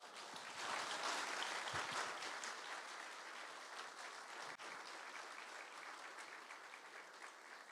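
An audience claps for recipients at an honorary doctorate ceremony at Jeonju University, sustained and fairly distant, slowly easing without stopping.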